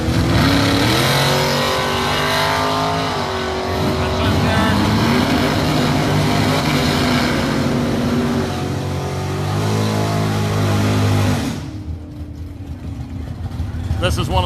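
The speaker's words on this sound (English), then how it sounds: "We're catching some exclusive drag racing footage." Drag racing cars roar hard down the strip at the Danchuk Tri Five Nationals, a loud sustained engine blast that cuts off near the end, with voices talking over it.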